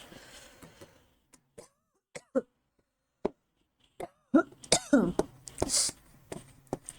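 Several short, sharp coughs and throat-clearing sounds from a person with a cold, close by, growing more frequent toward the end amid quiet pauses.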